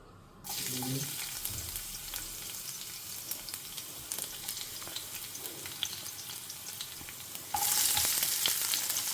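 Oil heats in a home kitchen pan, a steady close crackling sizzle that starts abruptly and swells louder near the end, with faint stirring scrapes.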